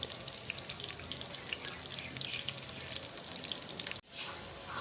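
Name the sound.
onion frying in a pan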